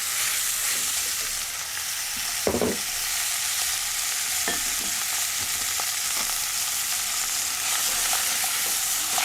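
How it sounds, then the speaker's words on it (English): Lean beef mince frying in a pan, a steady broadband sizzle running throughout at close range, with occasional clicks and scrapes of stirring. "I'm going to fry that until it is a golden colour"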